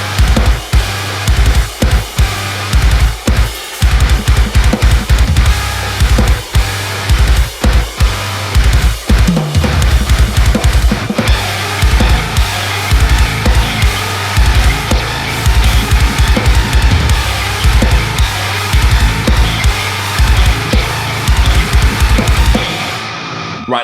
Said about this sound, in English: all the guitar tones that I was getting out of it